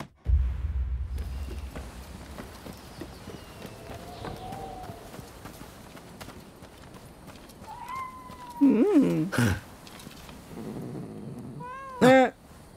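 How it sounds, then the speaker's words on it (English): A cat in the video game Rise of the Ronin meows in a few short cries against quiet ambient game sound. A louder yowl comes near the end, with brief game clatter between. "I hear a kitty kitty."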